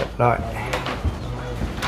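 A door of a newly bought car thuds shut nearby with a short knock, while people talk around it.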